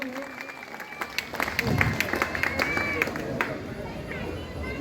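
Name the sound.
applause for elected vice president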